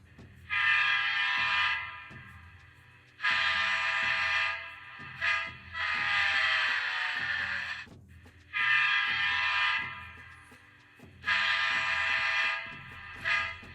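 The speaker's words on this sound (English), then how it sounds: "Number 5 is your Doppler horn," A Rapido F59PH model locomotive plays its Doppler horn sound effect, with five long horn blasts repeating at regular intervals over a low, steady engine rumble.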